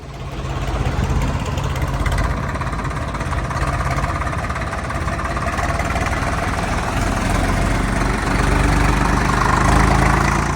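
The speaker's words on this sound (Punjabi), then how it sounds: "ਤੁਸੀਂ ਇੱਕ ਟਰੈਕਟਰ ਦੇਖ ਰਹੇ ਹੋ ਪਿੱਛੇ ਫਰੇਮ ਦੇ ਵਿੱਚ 747 ਟਰੈਕਟਰ" A Swaraj 744 tractor diesel engine idles steadily nearby, a constant low knocking rumble with slight vibration that swells a little toward the end, with no voices.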